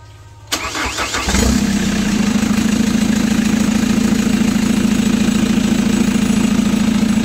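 A Chevrolet Captiva AWD with a turbocharged diesel engine under repair is cranked and catches after a brief starter whir, then settles into a steady, loud idle close by with no one talking.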